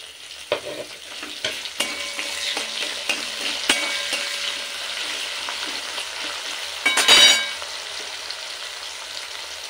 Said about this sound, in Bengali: ফোড়নটা একটু নেড়ে নেব সুন্দর একটা গন্ধ ওঠা পর্যন্ত।